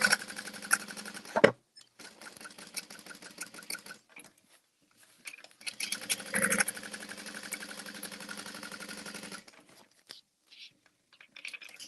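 Sewing machine stitching a basting seam on a handbag front panel, running in steady bursts with pauses and a short clunk, fairly close and alone.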